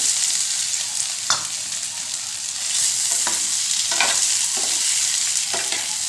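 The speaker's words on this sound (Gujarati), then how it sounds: "તો અહીં આપણું તેલ મસ્ત એવું ગરમ થઈ ગયું છે તો આપણે બટેકાને ફ્રાય કરી લેવાના છે" Potatoes fry in hot oil in a pan, giving a steady close sizzle with several sharp clinks and scrapes of stirring spread through it, and no voices.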